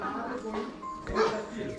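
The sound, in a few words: dogs barking at house in Wayanad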